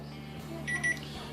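Riida TM08 wireless dual-probe thermometer sounding its temperature alarm as an oven heats past a preset limit, a short pair of high electronic beeps over a low steady hum.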